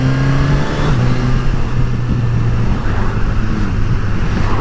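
A 2021 Suzuki GSX-S 1000 motorcycle at steady speed, its engine drone loud and continuous with a low steady tone and wind roar throughout, no pause or voice.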